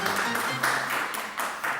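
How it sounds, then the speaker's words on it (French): Studio audience on a televised quiz show clapping for a contestant who just won, a dense steady applause across the whole stretch with a host voice talking over it. "On peut l'applaudir encore une fois."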